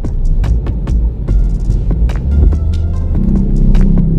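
A car engine idles and revs in repeated throbbing surges during a driving lesson on a public road, with a steady low hum and rumble throughout and brief clicks over it.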